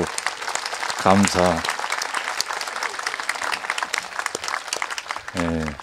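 Congregation at a peace mass in Gangjeong breaks into sustained applause, with a voice briefly speaking over the clapping near the start and again at the end.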